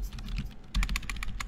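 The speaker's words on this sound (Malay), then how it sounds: "Sebenarnya yang klik keyboard ni tuan dia." Computer keyboard keys clicking in quick bursts, a short run of taps, a brief pause, then a denser flurry of close, crisp keystrokes with no talking.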